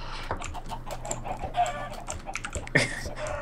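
Chickens cluck in the Minecraft video game, short scattered calls close by, mixed with clicky keyboard-like taps and faint game background noise.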